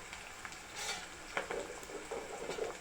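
Onions sizzling and frying in a pan, a steady close crackle with a few stirring scrapes and soft clinks over it.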